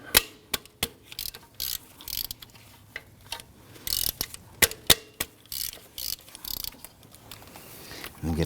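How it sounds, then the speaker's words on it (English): A ratchet with a 10mm socket works loose alternator bolts on a Volvo XC60 3.2L: bursts of sharp, close clicking from the pawl, with short pauses between strokes. "Use our 10mm socket."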